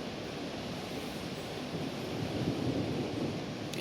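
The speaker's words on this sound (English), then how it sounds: "Just like this rolling thunder you're hearing, if you can hear that." Low, continuous rolling thunder from a storm, a broad steady rumble with a gentle swell toward the end, heard alone with no voices.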